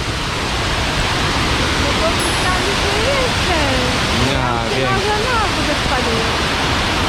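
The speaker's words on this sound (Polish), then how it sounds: "natrafiliśmy na ten fajny wodospad" Steady, loud rush of falling water from Kobbelvfossen, a waterfall in northern Norway, fills the whole clip, with a brief voice speaking over it partway through.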